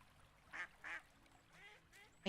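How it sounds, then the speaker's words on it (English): Ducks quacking in the farming game Kynseed: two short distinct quacks in succession followed by a softer, longer quack, all fairly faint over quiet ambience. "I hear ducks, but I don't see them"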